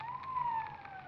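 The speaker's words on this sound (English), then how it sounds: "Police siren." A police siren wails in a 1950s radio drama, a steady rising-and-falling tone held near and fairly loud across the whole moment with no talk over it.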